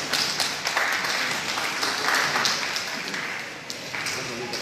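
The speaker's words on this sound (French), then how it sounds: "Encore des acclamations nourries pour le chef du diocèse et cette déclaration." A congregation at a Céleste church service in Côte d'Ivoire applauds and cheers, a dense, continuous clapping crowd with voices mixed in, holding steady before easing slightly near the end.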